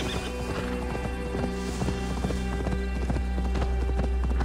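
Horse hooves clip-clop at a steady galloping rhythm through a ride in Assassin's Creed Valhalla, close and loud over a continuous low game ambience, with a brief whinny.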